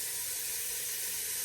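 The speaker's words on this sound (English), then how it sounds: "I'm going to add my onions" Onions dropped into a heated pot, giving a steady bright hiss and sizzle, fairly close and unbroken, with no talking.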